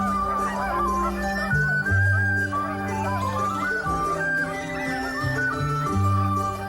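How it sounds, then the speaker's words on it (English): A goose honks repeatedly and loudly, with the calls close together. Sustained tonal music plays beneath the honks throughout. "this goose just bit me in the face for no reason"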